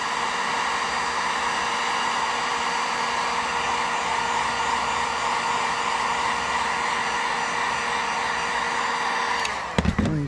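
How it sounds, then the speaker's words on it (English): A Harbor Freight heat gun blows steadily on its high heat setting, a loud continuous whirring rush of air warming a new fuel tank for a 1950 Chevrolet Styleline Deluxe, ending with a brief clatter. "So we're on the high heat setting of the Harbor Freight heat gun."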